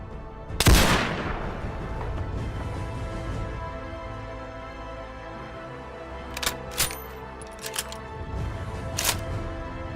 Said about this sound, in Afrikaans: ek dink jy moet die skoot vat